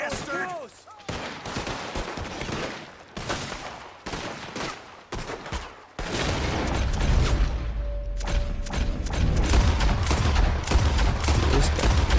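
Enemy gunfire in Red Dead Redemption 2, scattered sharp shots at first, then a heavier, denser volley with deep booms, with players talking over the shooting.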